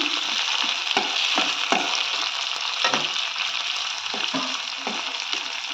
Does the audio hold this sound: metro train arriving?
no